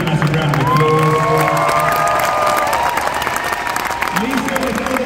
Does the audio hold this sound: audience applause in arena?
yes